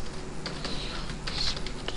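Code typed on a computer keyboard, a quick irregular run of light key clicks at close range over a steady background hum.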